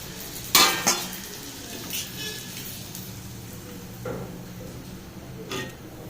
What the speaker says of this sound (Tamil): நான் பூரி சுட்டுட்ருக்கேன்